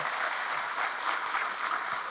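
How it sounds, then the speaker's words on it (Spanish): A church congregation breaks into sustained, even applause, many hands clapping together at a steady level for the whole stretch. "Fuertes aplausos al Señor y Salvador Jesucristo."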